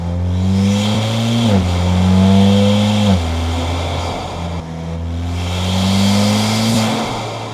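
A turbocharged VW MK8 engine with an upgraded Vortex XL turbo revs loudly through several rising pulls, with a faint high turbo whistle riding above the steady mechanical drone.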